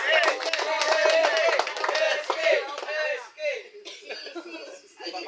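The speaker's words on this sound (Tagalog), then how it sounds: "Palakpak naman dyan!" Clapping at a family reunion, steady and sustained beneath excited talking and chuckling voices that stay on top throughout.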